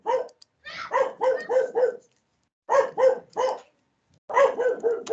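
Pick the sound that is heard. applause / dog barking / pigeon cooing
dog barking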